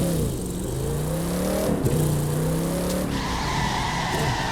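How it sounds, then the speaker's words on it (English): A race car engine in The Crew 2 racing game, traction control off, revs and climbs through gears with rising whine, tires squealing briefly, loud and continuous. "So then hit the gas."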